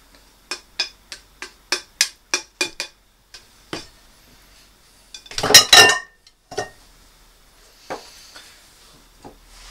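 Spoon taps sharply against a bowl in quick rhythmic clinks as flax linseed is mixed into a fruit mixture, followed by a louder scraping flurry and a few scattered knocks, close and clear with no talking.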